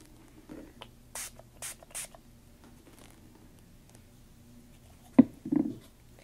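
Vibrant Turquoise color spray hisses onto paper in three quick, soft bursts, followed by a light clunk and rustling in a quiet room.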